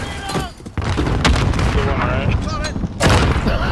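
A thrown-back grenade detonates in a first-person shooter game. Sharp, loud booms and gunfire burst out amid shouting players talking over the action, with a strong blast near the end.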